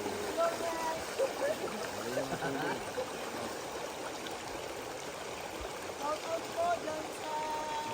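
Clear water flows steadily in a broad rushing wash, like a stream at a campsite, with faint voices and birdlike chirps now and then.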